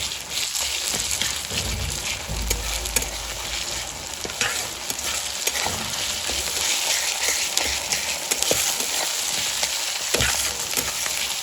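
Egg bhurji fries in a pan with a steady, dense sizzle like light rain, broken by repeated scraping stirs of a spatula, close and continuous.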